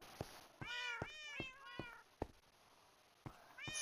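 Minecraft cat meowing in a player-built city world, several clear, close meows spaced in bursts over a quiet background, with no speech.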